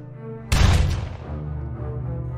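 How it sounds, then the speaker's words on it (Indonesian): A single sharp gunshot cracks out in a film scene, loud and sudden, followed by a booming tail that fades over low background sound. "Alhasil Frank pun menghajar Lazarus dengan sebuah tembakan."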